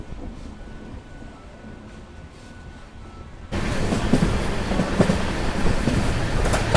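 An Amrit Bharat Express train runs on rails around a curve near the Guntakal line, a steady rumbling roll that suddenly jumps much louder and fuller halfway through, with rhythmic wheel clatter.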